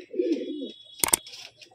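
A Murshidabad pigeon gives a low, soft coo up close, followed by a brief sharp flutter or clatter and a few faint calls.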